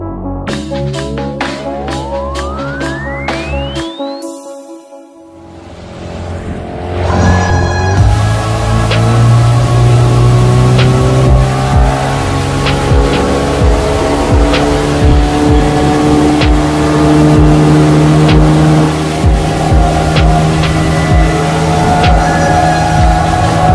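An old 14ft Alumacraft boat under way with its motor running: a loud, steady engine drone that revs up through a rising whine and then holds at a strong, continuous pitch.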